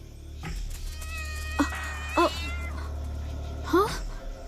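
Cat meowing several times in short, separate calls over a low steady hum, with faint talk in the background.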